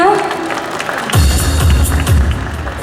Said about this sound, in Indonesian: kita berikan tepuk tangan yang meriah untuk Pak Imam semuanya.